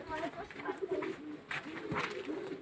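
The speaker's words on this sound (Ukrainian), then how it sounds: "Вот это голуби" Pigeons cooing during a flock training session in a southerly wind, soft repeated low coos mixed with bird activity, while people talk nearby throughout.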